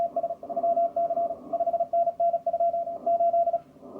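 CW Morse code signals on a radio receiver, short and long beeping tones keyed in irregular bursts over hissy band noise, with a fainter second signal beneath.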